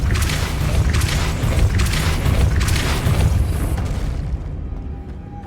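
A Depulso spell blast in Hogwarts Legacy, a loud booming burst with rumbling low end that sustains for about four seconds, then thins into a fading tail before the clip ends.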